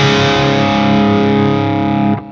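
Distorted electric guitar chords through a Friedman BE-100 amp, dry signal with delay from a second cabinet, ring out loud and sustained for about two seconds before being cut short, with no talking.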